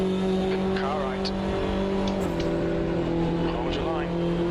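A race car in a racing video game at Hockenheim draws alongside, its engine droning loud and continuous under a driver's voice, with pitch sweeps as it passes.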